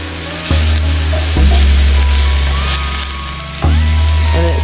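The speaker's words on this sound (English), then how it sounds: "So we'll just let these stir fry up" Vegetables stir frying in a pan, a loud steady sizzle under a low humming tone that cuts in and out, with occasional stirring clatter.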